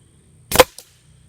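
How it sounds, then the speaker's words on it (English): A single sharp shot from a .177 air rifle fires during long range target practice, one crisp close crack followed by a faint second snap, then quiet. "So here's the 3rd shot."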